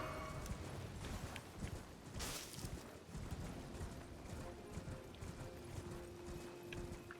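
Hooves clip-clop in a quick, steady rhythm as a horse moves in the video game Elden Ring, with faint mechanical clinks over a low, continuous bed of game sound.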